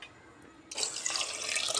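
Water pours steadily into pongal cooking in a pressure cooker, a close, bright splashing rush that starts abruptly partway through and continues to the end, with no talk.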